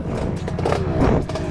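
A Yamaha MT07 motorcycle engine restarts after possible water ingress, then idles to warm up with a steady, close, low rumble and a faint clatter throughout.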